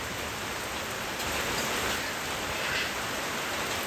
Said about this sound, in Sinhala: ඉතින් මේ නැති වැස්ස අපිට බාධා.